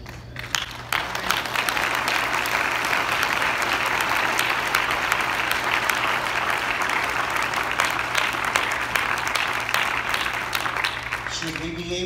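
Sustained applause from an evening gathering honoring a bishop's 75th birthday, steady and dense for about twelve seconds with a faint low hum beneath.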